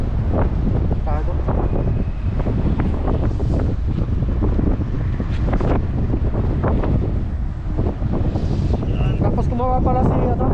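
Strong wind gusts buffet the microphone on a hot, breezy coastline, steady and loud throughout, with people talking over it now and then.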